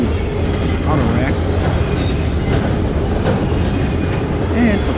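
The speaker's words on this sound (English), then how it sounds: "Tonight's train also had a Grand Trunk auto rack" A freight train carrying auto rack cars, including Grand Trunk, Kansas City Southern, Southern Pacific and Conrail racks, rolls past at night in a loud, continuous rumble with wheel screeches and rattling throughout.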